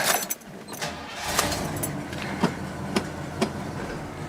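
The engine of a 1972 Pontiac barn find runs after sitting 20 years, a steady, rough rumble close by, broken by a few sharp clunks and rattles as the car sets off down the street.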